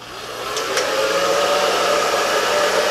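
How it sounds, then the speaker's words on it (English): A Dyson Supersonic hair dryer blows steadily at a low setting, a constant airy whir with a faint mechanical hum, close by and unbroken. "So let's compare that to this hairdryer on low."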